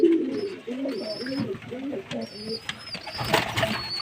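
Pigeons coo steadily in a loft, a run of soft, rolling, repeated coos close by, with brief higher chirps and faint bird calls behind them and a brief noisy burst near the end.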